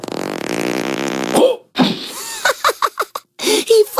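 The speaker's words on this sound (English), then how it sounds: "He farted." A cartoon fart sound effect from an animated superhero movie trailer blares loudly as a long buzzing tone, followed by sharp clipped speech from several characters.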